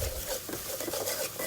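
Ground spices fry in oil in a pan for an egg and potato dish, with a faint, brief scraping of a stirring utensil over a soft sizzle.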